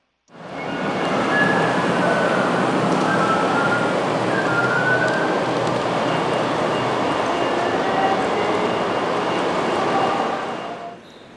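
Model railroad trains roll by on a detailed layout's main line, a steady close rumble and clatter that swells in quickly, holds for several seconds with faint squeals, then cuts off.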